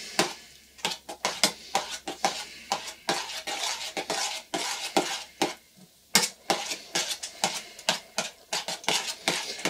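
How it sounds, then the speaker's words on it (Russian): A spoon stirs cottage cheese with eggs in a bowl, making rapid, repeated clinking and scraping strokes against the dish in a steady close rhythm with no talking. "сейчас перемешиваем вот эту часть. Творог с яйцами."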